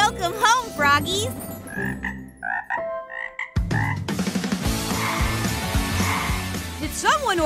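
Frogs croak loudly in repeated bursts at a pond, mixed with cartoon voices and music from a children's animated show, the croaks close and overlapping with the talk.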